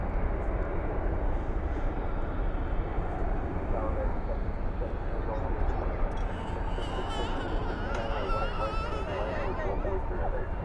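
Airbus A320neo-family jet departing DFW at night, a continuous jet engine roar steady in level, with a voice talking faintly over it in places.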